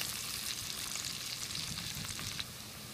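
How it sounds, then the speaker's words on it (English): Bacon and onions fry in a pan, giving a continuous dense sizzle and crackle that holds steady and close for the whole stretch, with no voices. "the bacon has been frying up for about 3 to 4 minutes"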